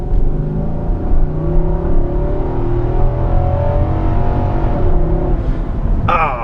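A 2018 Infiniti QX80 engine accelerates, with a loud, close, steady rising drone heard from inside the vehicle, and a short whoosh near the end.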